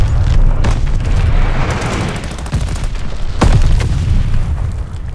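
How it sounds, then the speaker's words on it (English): Heavy booms from an Allied glide bomber strike in Call of Duty: Vanguard Domination multiplayer, loud and dense over nonstop gunfire and battle noise, with one sharp blast standing out near the end. "Allied glide bomber on the way!"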